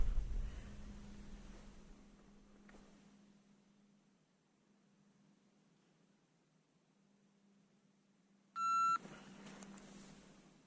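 Shooting timer at an outdoor range drill with a Glock handgun gives one loud electronic start beep near the end, following a quiet stretch of faint background hum.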